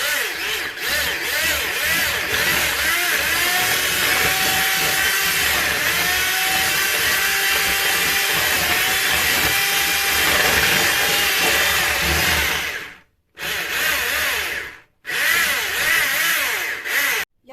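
An electric hand mixer whisks three eggs with a glass of sugar for a wet cocoa cake, a loud continuous whirring with shifting pitch that stops briefly twice near the end.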